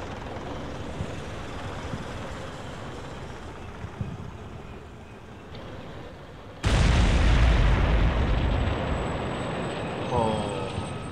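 Helicopters in a military video game roar in loudly partway through, a dense rotor and engine wash that jumps up over quieter game ambience and holds steady to the end.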